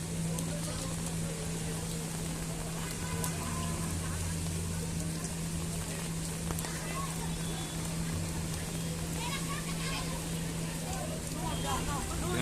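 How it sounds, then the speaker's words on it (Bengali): A steady, dense hiss of heavy rain pours down without pause at the Shonir Akhra cattle market in 2025 as cows are unloaded, with a low engine hum running underneath the whole time. "প্রচণ্ড বৃষ্টি প্রচণ্ড বৃষ্টি হচ্ছে প্রচণ্ড পানি জমে গেছে"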